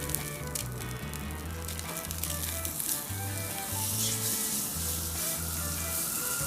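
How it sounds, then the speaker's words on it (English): An A5 Wagyu steak seasoned with salt, pepper and Goya Adobo sears in a hot pan, giving a steady loud sizzle and crackle throughout, alone with no voices. "I'm going to brown on each side for say a minute or so."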